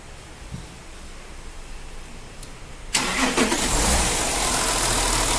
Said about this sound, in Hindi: तो देख सकते हैं फ्रेंड ये हमारी गाड़ी स्टार्ट हो चुकी है